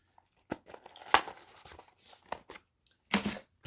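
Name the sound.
cutting open a cardboard box with keys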